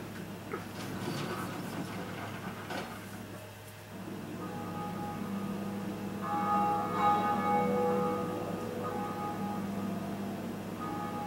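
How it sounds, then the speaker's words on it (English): A Bell of Awakening tolls in the Dark Souls video game, a resonant church-bell ring with sustained tones swelling midway and lingering over a low ambient rumble. "we ring one of the Bells of Awakening"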